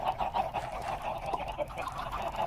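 Chickens in the Minecraft video game cluck in a quick, repeated series of short calls at a fairly low level, with no talking over them.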